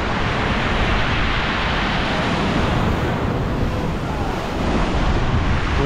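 Storm waves pound the Black Sea shore at Divnomorskoye, a continuous roaring surf with heavy wind buffeting the microphone, loud and unbroken throughout.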